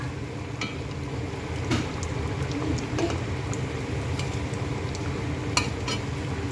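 Vetki fish cutlets frying slowly over medium-low heat on a gas stove, a steady close sizzle with scattered sharp crackles and light pops throughout.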